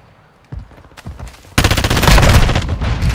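An FR Advancer assault rifle fires in Call of Duty Modern Warfare II. A few quick shots come first, then a loud, sustained burst of rapid automatic gunfire close by.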